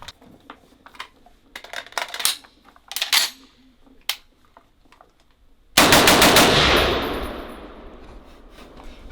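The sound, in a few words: Chinese M14 clone rifle firing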